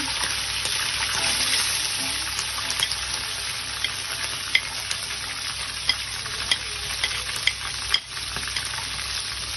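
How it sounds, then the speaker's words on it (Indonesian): Sliced shallots sauté in hot oil in a pan, a steady close sizzle broken by occasional stirring clinks and scrapes, with no voices. "Lanjut kita tumis bawang merahnya."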